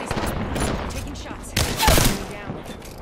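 Rapid bursts of gunfire in a shooter video game, loud close volleys and rattling automatic shots mixed with game sounds and voice chatter.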